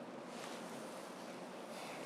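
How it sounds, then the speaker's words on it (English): Wind blows steadily outdoors, a soft continuous rushing with a rumbling buffet against the microphone, low in level and with nobody talking. "You hearing that? Yes, yeah, it's windy."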